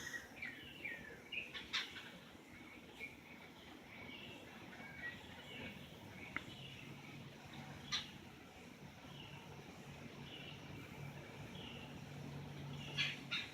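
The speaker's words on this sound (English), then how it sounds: "The beautiful sound of the lovely birds." Birds chirp and call softly outdoors, scattered short tweets and sharp notes at irregular intervals over a faint, quiet background.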